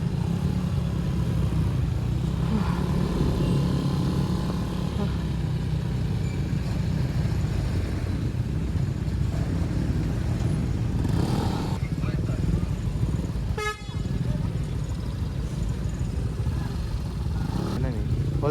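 Motorcycles ride along a road in the northern Philippines, a continuous engine drone with passing traffic and a short dropout, with people talking over the noise.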